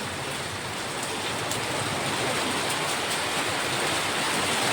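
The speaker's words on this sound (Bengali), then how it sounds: "টুংটাং করে আওয়াজ হচ্ছে টিনে।" Hail drums on a tin roof in a loud, dense, unbroken patter that continues without pause.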